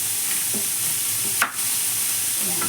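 Onion frying in a pan for a potato and minced pork omelette, a steady close hiss of sizzling oil with a brief louder burst of crackle and steam partway through.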